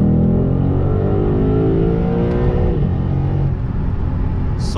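A Lexus RC F with a Tom's engine air filter accelerates on a drive, its engine rising steadily in pitch through the revs with a loud close intake roar, alone without talk.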